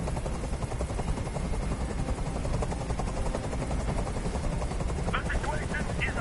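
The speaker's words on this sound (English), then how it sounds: "Tell that helicopter to get out of here." A helicopter hovers overhead in the video game Detroit: Become Human, a steady rotor thrum held throughout at moderate loudness, with game noises layered over it near the end.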